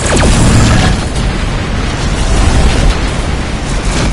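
A target ship blows up in the Rebel Galaxy space combat game: a loud, close, sustained explosive roar with rumbling booms and crackling debris that fills the whole few seconds without letting up.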